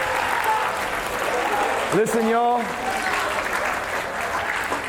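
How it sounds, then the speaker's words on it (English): Applause from a school audience for teachers and staff, a broad steady wash of clapping running under a man's amplified speech throughout. "Can you give your teachers and your staff a big round of applause"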